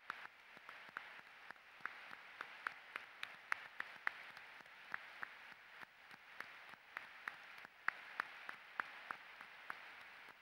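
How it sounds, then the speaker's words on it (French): Sparse, scattered audience applause follows a speech on peace in the Middle East, with individual hand claps distinct and fairly quiet against a soft background. "Ecco questo applauso. Cet applaudissement."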